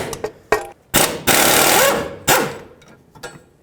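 Impact wrench loosening the sway bar link nut on a 2005-2009 Chevy Equinox front suspension, loud close buzzing bursts with a longer sustained rattle, then brief clanks.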